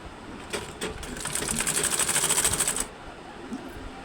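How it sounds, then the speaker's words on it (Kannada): A sewing machine stitches through folded cross belt pieces, its needle running in a fast, steady mechanical chatter for about two seconds before stopping, with quieter handling sounds before and after. "ಫೋಲ್ಡ್ ಮಾಡಿಕೊಂಡು ಹೊಲಿಗೆ ಸ್ಟಿಚ್ನ ಹಾಕ್ಕೋಬೇಕು"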